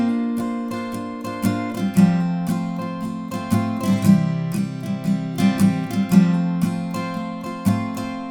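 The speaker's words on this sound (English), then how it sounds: "So with those hammer-ons, the intro would sound like this." Acoustic guitar strums the intro to a song, chords ringing with quick hammer-on embellishments in a steady repeating rhythm, close and clear with no voice.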